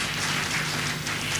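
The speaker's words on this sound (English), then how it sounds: "Clap for him." A crowd keeps up a loud, continuous wash of applause, dense and sustained with no breaks or individual claps standing out.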